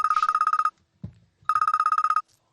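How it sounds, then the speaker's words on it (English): A telephone rings for an incoming call with two bursts of rapid electronic trilling, loud and close, and a brief soft knock between them. "Oh, we got another call coming in here."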